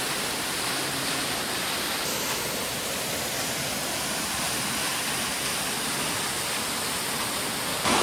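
Waterfall at Jodeghat seen from a steep viewpoint above a drop, heard as a steady, loud, broadband rushing roar of falling water that continues unbroken without voices.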